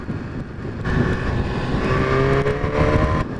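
A BMW S1000RR sport motorcycle engine pulling hard under acceleration, a loud steady high-revving drone with rising harmonic whine, heard up close from the rider's position with no talk.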